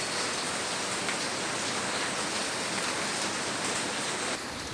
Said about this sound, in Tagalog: Nilibri na naman ako ng dilig. Kasi nga, umuulan.